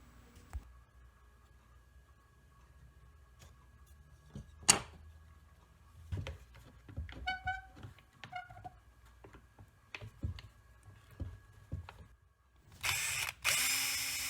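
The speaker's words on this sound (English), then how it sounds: "I'm just drilling some holes for locating pins." Short bursts of a power drill whirring and biting into wood while drilling holes for locating pins, separated by pauses, clicks and workshop handling noises, close by.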